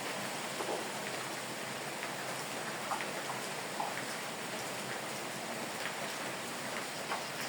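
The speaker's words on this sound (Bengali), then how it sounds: "বাহিরে ভালোই বৃষ্টি হইতেছে," Steady rain falls outside around a village home, a dense even hiss of drops with occasional sharper patters from nearby surfaces, continuous and moderately loud throughout.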